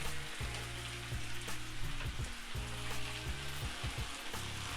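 Tomato paste sizzles and spits in fat rendered from sausages and brisket for a solyanka soup, a steady dense frying hiss with occasional low thumps from the pan, close and continuous with no talking.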